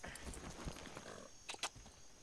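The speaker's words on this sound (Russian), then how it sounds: "Лошадь, поехали." Horse hooves clip-clopping at a run in the video game Far Cry 6, a quick irregular patter of hoofbeats with a couple of sharper louder impacts near the end, fairly quiet overall with no speech.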